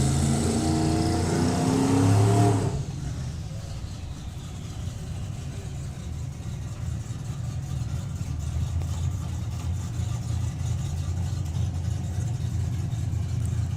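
Black Pearl Camaro drag car at a drag racing event, loud engine roar and tyre noise for the first couple of seconds, then dropping to a lower steady rumble from further off.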